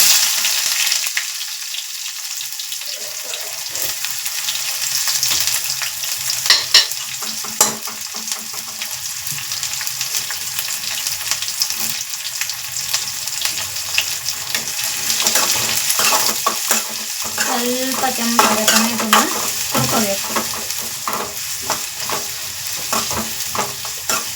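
Onions frying in oil for cabbage palya, stirred now and then: a loud, steady sizzle close up with occasional spoon scrapes and light clinks against the pan, and no talking.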